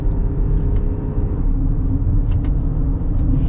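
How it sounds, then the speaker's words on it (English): Steady low engine rumble from a 2022 Toyota Highlander L in manual mode during downshifts, a smooth continuous drone with road noise and no sharp revving peaks. "I'm gonna go into the manual mode and just do a couple of manual shifts with this."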